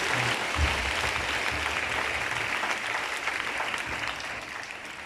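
A church congregation applauds in a sustained, dense wash of clapping that holds steady for several seconds, full and close, with a faint low murmur underneath.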